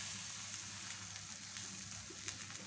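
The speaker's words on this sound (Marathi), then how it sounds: "आता आपण आपला थालीपीठ जो आहे इथे टाकून देऊया।" A methi thalipeeth flatbread sizzles softly on a hot oiled griddle, a faint, even crackle running throughout with a few small pops.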